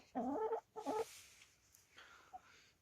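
Kazakh breed chickens clucking close by in two short bursts, followed by quieter scattered clucks and faint background noise.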